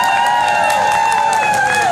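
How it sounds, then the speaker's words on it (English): An audience at a lip sync battle cheers and applauds loudly and steadily throughout, with shrill, sustained whistle-like tones riding over the dense crowd roar. "by a round of applause, if you like Indian Beyonce, let me hear you make some noise"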